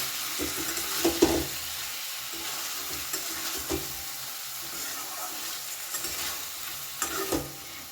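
Fried paneer gently stirred in a pan of gravy for paneer dalna, soft scraping strokes with intermittent spoon taps over a faint steady sizzle, fairly quiet and without talk.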